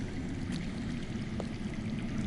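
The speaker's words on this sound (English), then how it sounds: "That's water. I hear water. From underground." Underground water in a Game of Thrones video game trickles and pours in a steady, even wash that runs unbroken throughout at moderate level.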